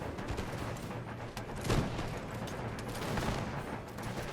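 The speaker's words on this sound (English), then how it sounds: "I'm gonna put the cannon to work there" A cannon fires in an American Revolution battle video game, one dull booming blast amid a continuous rumble of distant musket fire and battle noise.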